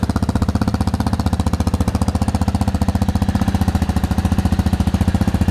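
A cheap street-legal fuel-injected motorcycle with a stainless exhaust idling right after starting, a loud, close, rapid and very regular thumping engine pulse that stays steady throughout.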